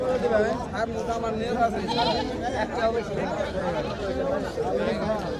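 Goats, including Black Bengal and local breeds, bleat repeatedly at a busy livestock market in Melandah, Jamalpur, their calls mixed into constant crowd chatter and nearby talk.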